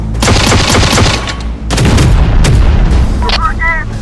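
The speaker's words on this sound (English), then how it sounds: "Another heavy artillery piece in place." A heavy artillery emplacement fires in Terminator Dark Fate Defiance, sending out loud, rapid booming volleys in two dense bursts with a brief gap between them. Voices can be heard alongside the barrage.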